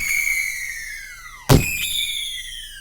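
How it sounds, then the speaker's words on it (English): Two firework bursts: each a sharp bang followed by descending whistling streaks, the second arriving after about a second and a half of fading whistles. "Fireworks are bursting in the air, shooting upward from the horizon"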